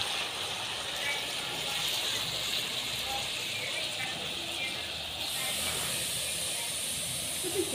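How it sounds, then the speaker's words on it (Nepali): Vegetables with salt and turmeric steam gently in a covered pot, giving a continuous soft hiss that holds evenly throughout. "यसलाई चाहिँ अब नुन बेसार हालेर यसलाई हल्का स्टिम हुँदैछ अलिकति पानी निस्किन्छ"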